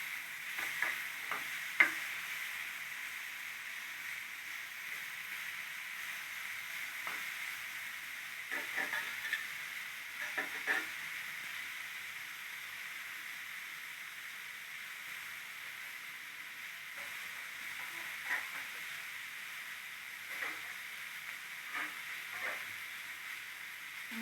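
Tomatoes, green chilies, brinjal and curry leaves soften in a pan for vankaya tomato pachadi, making a faint, steady sizzling hiss with occasional soft clicks from stirring, and no voices.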